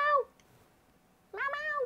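Person imitating a cat's meow, two short voiced meows separated by a pause, close and clear.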